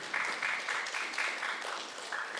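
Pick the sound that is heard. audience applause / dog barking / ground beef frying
audience applause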